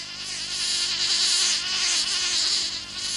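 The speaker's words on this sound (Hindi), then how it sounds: "देखो वो मधुमक्खी शहद इकट्ठा करने गई है" A cartoon bee buzzes continuously with a thin, wavering drone that swells and fades slightly, close and loud with no talking.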